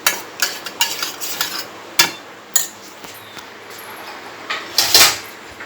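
A spoon scrapes and clinks against a metal pot while curd is added to milk, with scattered sharp taps and clatters spaced irregularly nearby.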